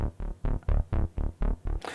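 A deep analog-style Alchemy synth bass patch in Logic Pro, brightened slightly and leaning muffled, pulses in eight or so evenly spaced punchy notes with a brighter swell at the end, loud and alone.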